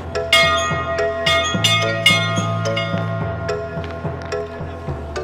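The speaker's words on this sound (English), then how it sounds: "whoever wanted to would run up and clang the bell" A large metallic bell clangs repeatedly in an uneven rhythm at a sports game after a score, bright ringing strikes layered over each other and lingering between hits.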